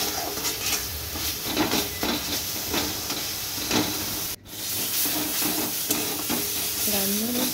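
Bengali curry being sautéed in a pan while stirred, a continuous close hissing sizzle with repeated spatula scrapes, a momentary dropout midway, then steady frying again.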